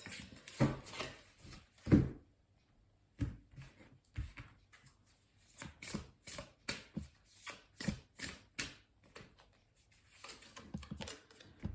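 Oracle cards being shuffled by hand, a quiet run of soft riffling bursts and flicks in an irregular rhythm, close and alone with no talk.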